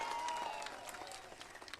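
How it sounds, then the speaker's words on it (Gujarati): Audience applause at a political rally, a broad wash of clapping from a crowd that stays steady and fairly loud, easing slightly toward the end, with no talk over it. "એકવાર તાળીઓનો ગડગડાટ થઈ જાય સાહેબ."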